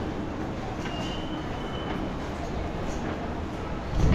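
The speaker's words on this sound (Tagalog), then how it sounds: "Sasakay na naman kami ng train." A train runs on rails in Japan, heard from inside the car as a steady loud rumble and roar with a faint wheel squeal and rising noise near the end.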